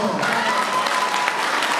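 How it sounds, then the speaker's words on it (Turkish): Audience applause at a stage show fills the clip with dense, steady clapping from a crowd, loud and close, with some voices mixed in. "Aman bu güzelliğe alkış yok mu?"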